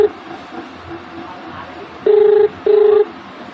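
Telephone ringing on an outgoing call: two long steady ringback tones, the second following shortly after the first, clear over a low background hiss.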